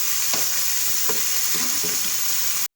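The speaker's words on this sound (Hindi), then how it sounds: "यहाँ पर मैंने आलू शामिल किए हैं, इसको मैं अच्छे तरीके से पकाऊँगी।" Potatoes cook in a masala for aloo gosht, a dense, close sizzle running throughout with a few soft stirring scrapes, ending abruptly.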